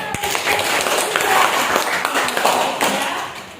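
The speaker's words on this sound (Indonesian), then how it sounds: "tepuk tangan" A short burst of clapping from a small class group, steady and fairly loud throughout, with a few sharper claps standing out.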